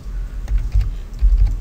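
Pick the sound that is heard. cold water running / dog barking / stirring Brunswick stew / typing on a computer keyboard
typing on a computer keyboard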